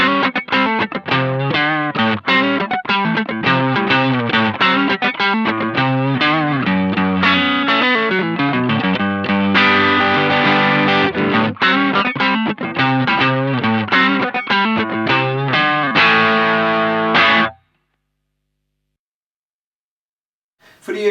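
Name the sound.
guitar through Electro-Harmonix East River Drive overdrive pedal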